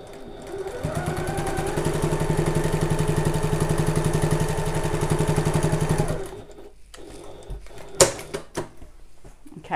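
A sewing machine stitches a messenger bag in one steady, rapid run of needle strokes lasting several seconds, then stops. Faint handling noises follow.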